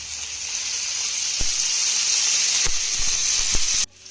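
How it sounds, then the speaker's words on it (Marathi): Chopped brinjal sizzling in hot oil on a flat pan, a steady close frying hiss with a few sharp spatter pops, cutting out abruptly near the end. "वांगी आपली तव्यामध्ये घालून झाली की यामध्ये आपल्याला पुन्हा अर्धा चमचा तेल घालायचं आहे"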